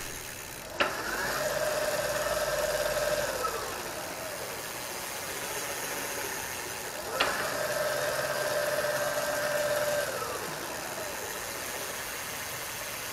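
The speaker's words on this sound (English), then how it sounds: "Another nice thing about the BBSHD is it's relatively quiet for a mid-drive motor." A Bafang BBSHD 1000W 48V mid-drive motor on a Raleigh comfort e-bike runs at maximum pedal assist level 5, giving a steady, moderately loud whine with two sharp clicks as it spins up twice and winds down.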